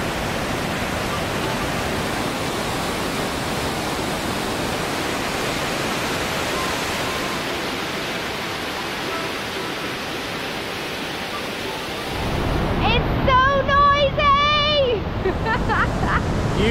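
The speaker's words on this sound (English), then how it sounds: "we are getting very close to the waterfall area now." Steady, dense roar of a waterfall in Munnar, India fills the whole stretch, with a brief burst of louder noise and whistling wind near the end.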